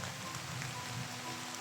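Light rain falls outdoors as a steady, even hiss of drops on surfaces, soft and continuous with no voices.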